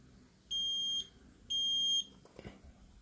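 An ORICO hard drive docking station gives two clear, evenly spaced electronic beeps, each about half a second long, followed by faint clicks in an otherwise quiet room.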